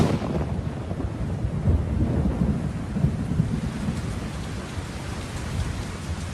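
Heavy rain shower pours steadily in Yellowstone, with low rolling thunder rumbling beneath the dense hiss of raindrops, loud and continuous with no voices.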